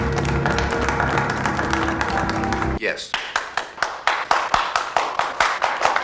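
Henchmen applaud an arrival in a film scene, with scattered hand claps that turn into a steady rhythmic clapping after a brief music passage, fairly close, with a single spoken word at the start.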